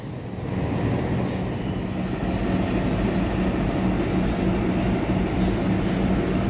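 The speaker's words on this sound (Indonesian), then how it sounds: "Kereta api King Willis, King Willis nomor KA6 dari stasiun Bandung tujuan akhir stasiun Surabaya Gubeng" The King Willis passenger train KA6, running from Bandung to Surabaya Gubeng, gives a steady, loud rumble of rolling railcars, continuous and close, with no talk.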